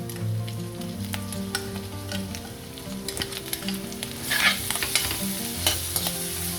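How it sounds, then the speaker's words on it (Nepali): Minced meat with ginger-garlic paste is stirred and fried in a pan for noodle making, a steady close sizzle broken by scraping spatula strokes and brief louder bursts as the mixture is turned. "यो पनि यसरी चलाइ भुट्नुपर्छ।"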